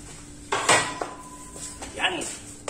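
A utensil scrapes and clinks against a bowl while margarine filling for Spanish bread is gathered up, a few short scrapes and taps, fairly close and moderately loud.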